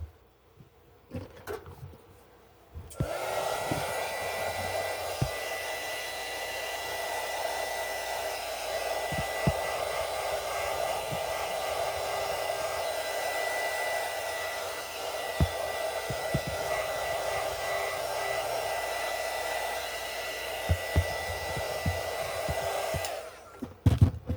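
A hair dryer blows steadily for about twenty seconds, drying a wooden craft decoration, loud and close with a constant whirring tone, switched on after a few seconds and off at the end.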